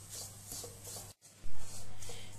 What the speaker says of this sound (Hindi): इसे भी 1 मिनट तक ड्राई फ्रूट्स के साथ रोस्ट करेंगे।